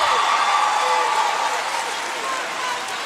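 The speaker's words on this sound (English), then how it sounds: "the loudest thus far, yes. You can hear them." A student section cheering at a girls' high school state basketball championship between Loretto and Summertown, a loud sustained crowd roar with shouts and a commentator talking over it.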